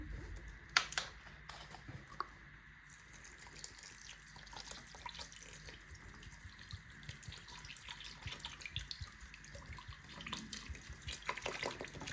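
About 900 ml of vinegar poured out for a pepper sauce makes a quiet, continuous splashing stream, with a couple of sharper knocks near the start and no talking.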